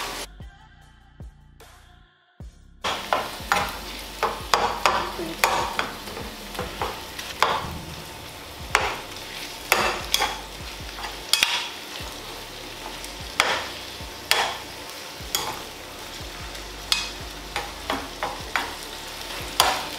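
Minced beef sizzles in a hot pan with onions while being stirred, steady frying hiss punctuated by repeated scraping strokes of the spoon after a brief quiet start, close and fairly loud with no talking.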